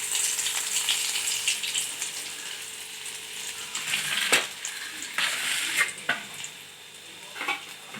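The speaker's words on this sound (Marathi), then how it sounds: "अद्रक लसूण पेस्टला थोडं परतू द्यायचे।" Ginger garlic paste frying in a pan over low heat for shev bhaji, a steady hissing sizzle with scraping stirs and a few louder clatters, close and without talk.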